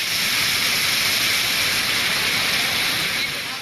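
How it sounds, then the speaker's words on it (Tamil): Heavy rain pours down in Tamil Nadu, a loud, dense, steady hiss that stays constant throughout with no breaks. "இடியுடன் மழை பொழிந்தது"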